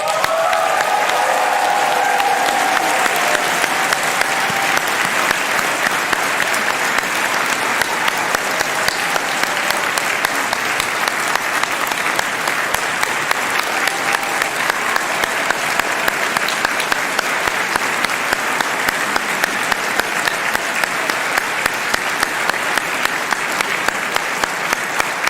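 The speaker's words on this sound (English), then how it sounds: "I don't think you can ever give enough applause for a graduation." Sustained applause from a large audience at the University of Illinois College of Medicine 2022 graduation convocation, a steady dense wash of clapping lasting throughout, fairly distant and even with no talk over it.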